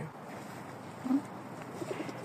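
A pigeon gives a soft, low coo midway through, faint against quiet outdoor background noise in Kyiv.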